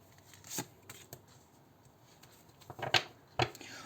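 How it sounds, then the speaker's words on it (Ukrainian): Tarot cards being handled and shuffled close by, soft rustles followed by a few sharp snapping flicks near the end. "Давайте з цих витягну дві карти."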